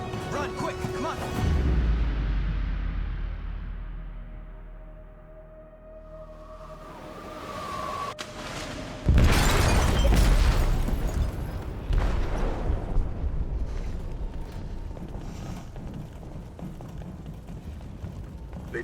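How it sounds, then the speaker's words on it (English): A heavy explosion in a ship's hold in Detroit: Become Human bursts out as a deep boom with a long rumbling roar, set among tense game sounds and shouted voices before and after. "They detonated an explosive in the hold."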